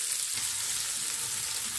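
Cumin and mustard seeds fry in hot oil, giving a steady, close hiss and crackle with no talking.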